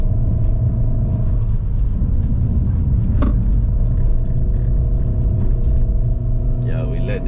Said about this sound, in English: we let the gearbox shift down by itself.